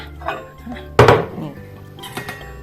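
Garlic being stirred in a bowl after a minute in the microwave: a loud clatter of a utensil against the dish, followed by fainter scraping and clinks, with a soft voice in the background.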